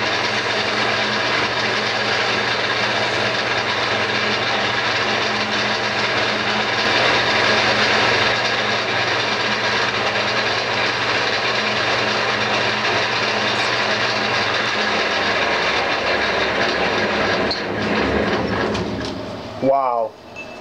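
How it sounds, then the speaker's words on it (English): An acrylic pen blank is sanded at 240 grit as it spins on a woodturning lathe, making a loud, steady whirring drone that runs unbroken for most of the stretch before cutting off with a few brief knocks at the end. "I think I might just start sanding at around 240"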